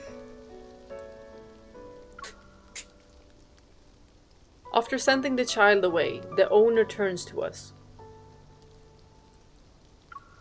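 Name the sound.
rain falling, from the video game Love and Deepspace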